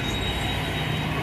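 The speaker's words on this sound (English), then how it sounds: "This train is actually cleaner than the ones in America." A train passing in Cairo, a loud, steady rumble of rolling wagons with a faint high wheel squeal running through it, heard close with no talking.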